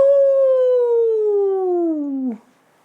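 A hound dog lets out a single long, mournful howl that slides steadily downward in pitch for about two seconds, then breaks off abruptly, leaving near silence.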